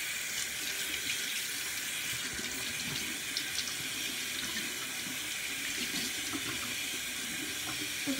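A bathroom tap runs steadily for face washing, the water splashing and hissing into a sink at an even level throughout, with no talking.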